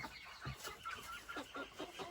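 Young chocolate and white chickens, around three to five months old, cluck in a steady run of short, evenly spaced calls, close by over a faint background hiss.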